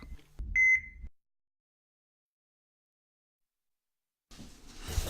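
A single short electronic beep, like a monitor tone, sounds once and then gives way to a long silence before a soft rustle.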